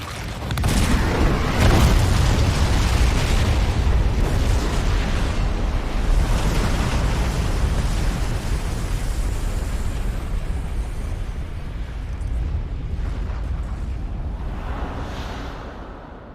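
A long, heavy rumbling roar of an explosion in Resident Evil 2 Remake, loud at first and slowly fading over several seconds.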